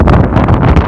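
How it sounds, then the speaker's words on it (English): A strong headwind buffets the microphone while cycling on an open road, a loud, continuous rumbling roar with fluttering gusts. "other than that flipping sound of the wind"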